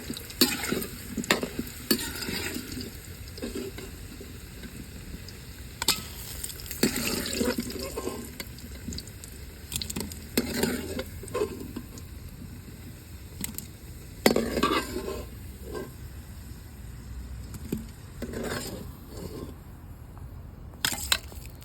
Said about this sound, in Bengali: আলুটা লাল লাল করে ভাজি করে নিয়েছি এখন আমি উঠাই নেবো